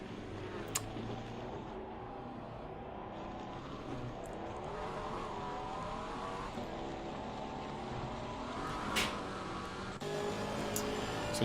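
Race cars in Assetto Corsa Competizione at Donington Park, including a McLaren, Aston Martin and AMG, drone and rev continuously with shifting engine pitch, a few sharp clicks or tire chirps, steady and alone without talk.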